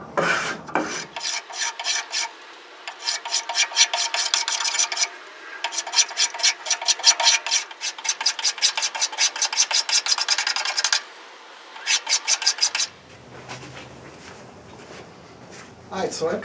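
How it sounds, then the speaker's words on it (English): A coarse flat rasp shapes the wooden neck of a cigar box guitar. Fast, close, rhythmic scraping strokes come in long bursts separated by brief pauses. "I'm going to take the square or the flat rasp, the coarse attachment, stick it on this guy, and I'm just going to break these corners"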